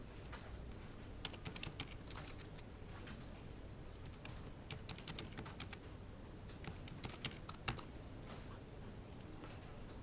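Quiet, rapid keystrokes on a computer keyboard while entering HTML code, clicking in irregular bursts against a steady low background hum with no speech.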